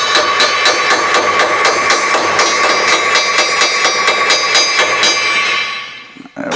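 A hammer strikes the sheet-metal front apron panel of a car to knock out a crease, landing quick, evenly spaced ringing blows for about five seconds before stopping.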